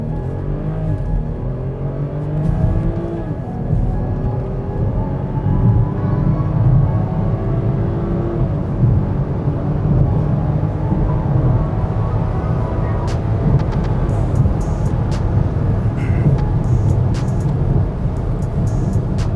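A BMW X7 tuned with bootmod3 pulls away hard from a full stop, its engine rumble steady and loud throughout with rising harmonic tones as it gains speed, heard from inside the cabin.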